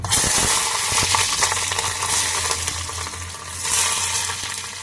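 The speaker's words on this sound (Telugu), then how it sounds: "పచ్చిమిర్చి ఆనియన్స్ వేసేస్తున్నాను" Green chillies and onions tipped into hot oil, a dense, loud crackling sizzle from the start that holds steady throughout, close up with no voices.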